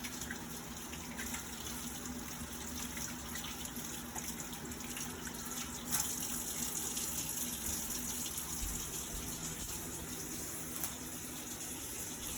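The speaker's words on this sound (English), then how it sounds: "I'm going to rinse off the jalapenos, I'm going to rinse off the cilantro" Tap water runs steadily for the whole stretch while jalapenos, cilantro and cherry tomatoes are rinsed in a kitchen sink, a fairly quiet, continuous gushing with no one speaking.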